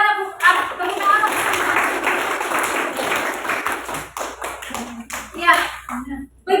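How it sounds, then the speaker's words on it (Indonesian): A classroom of students claps together, a dense burst of applause that fades into scattered claps, with a teacher and children speaking over and around it. "Berikan tepuk tangan."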